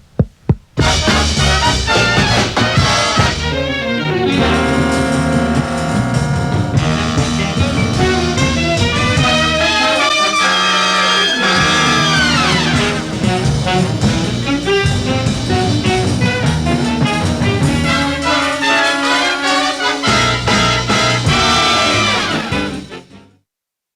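Re-recorded orchestral film score cue, a combined take of two overlapping cues, plays continuously and loud with full sustained harmony and shifting melodic lines, ending in a final held chord.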